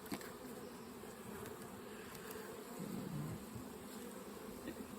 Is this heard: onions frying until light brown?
no